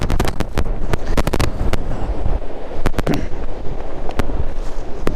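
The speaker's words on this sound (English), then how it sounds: "It is windy." Strong wind from a massive storm buffeting the microphone at a caravan and motorhome site in rough, crackling gusts, loud and continuous with no talking.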